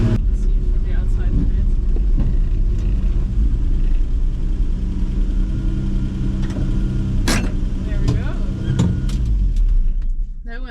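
The engine of an old ex-military Volvo C306 6x6 truck drones in a low, steady rumble throughout, heard from inside the cab, with occasional clunks and rattles over the running motor.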